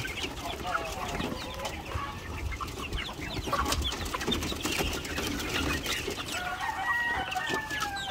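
A flock of white barred rock chickens clucks and chatters continuously, several birds close by and others farther off, with no one speaking.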